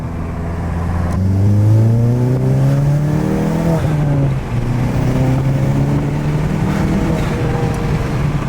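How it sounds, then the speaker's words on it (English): A VW Golf MK8 accelerates hard in third gear, its loud engine note climbing steadily in pitch through a long sustained pull with a brief dip mid-run before rising again, close and continuous with no talk. "We're gonna do a nice third gear pull and see how it feels."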